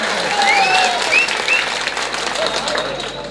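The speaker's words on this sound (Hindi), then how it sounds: "तो एक बार जोरदार ताली बजा करके उनका खैर मकदम करें।" Dense, steady applause from an audience filling the SMC Community Hall in Fulwadi, Surat, at a political gathering. The clapping holds loud and even for about three seconds, with a few whistles cutting through.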